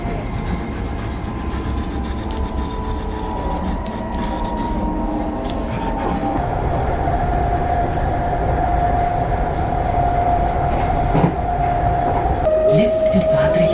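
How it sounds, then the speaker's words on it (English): A German passenger train in Saxony on a chilly morning rumbles steadily, growing louder midway, with a sustained high whine and occasional clanks and squeals over the heavy rolling noise. "This is the first of 4 trains I've got to take"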